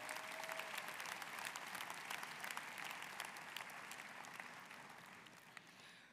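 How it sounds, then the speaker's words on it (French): Delegates applauding at a CGT union congress, sustained even clapping from a large hall, somewhat distant and steady for several seconds. "Et ça, nous pouvons les applaudir."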